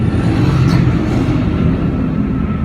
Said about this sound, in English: there's a lot of farming stuff going on around here at the moment, so there's a lot of noisy traffic